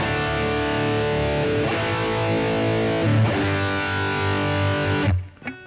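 A heavily distorted electric guitar plays a classic hard rock riff, sustaining thick, buzzing chords and then cutting off abruptly near the end.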